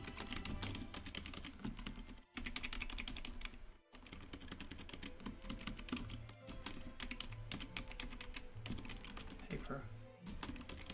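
Steady typing on a computer keyboard while writing Clojure code, a dense run of quick key clicks with brief pauses, fairly quiet and close, with talk faintly present at times.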